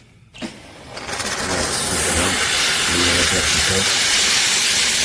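A Kärcher SC 5 EasyFix steam cleaner runs at its highest setting, starting with a click and rising into a loud, steady, close broadband steam hiss that holds to the end.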